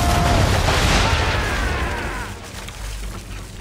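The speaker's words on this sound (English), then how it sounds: "Bring her around broadside, and when all guns are on target, call fire." Ship cannons firing a broadside in Assassin's Creed III, heavy booming discharges that blend into a deep rolling roar, loud at first and then fading into a lingering low rumble.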